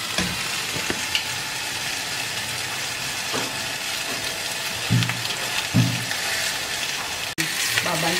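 Pork for sisig fries in a pan as its fat renders out, a steady close sizzle and crackle with occasional louder pops and stirring clatter, under quiet talk.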